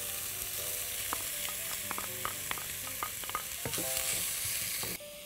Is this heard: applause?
no